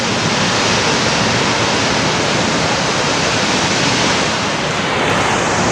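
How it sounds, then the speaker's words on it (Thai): Steinsdalsfossen waterfall in Norheimsund, Norway, roaring with a dense, steady rush of falling water that fills the whole clip, loud and close, with no voices over it. "น้ำตกค่ะนี่นี่นี่แรงมากแรงมาก"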